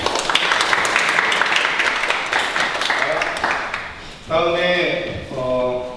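Audience at a Yangnim neighborhood forum claps to welcome seven committee chairs, a loud, dense burst of applause lasting about four seconds, then a speaker's voice takes over as the clapping fades.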